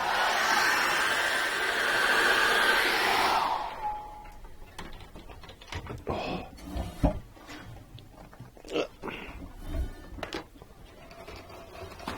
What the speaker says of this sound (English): get the hairdryer on that now and knock that colour back